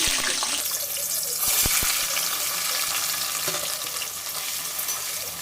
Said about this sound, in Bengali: আলুগুলো তেলের মধ্যে দিয়ে